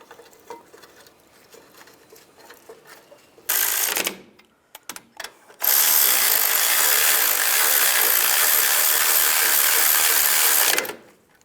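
A ratchet runs in the rear brake bracket bolts on a Nissan Xterra, starting with a few brief clicky bursts, then a loud, fast, continuous rattling spin for about five seconds before it stops.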